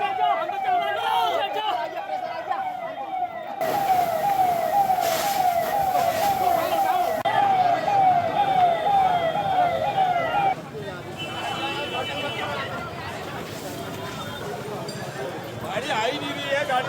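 A wailing emergency siren from a fire engine arriving at a vehicle fire cycles loudly and steadily, then gives way to street commotion and traffic noise, with talk mixed in.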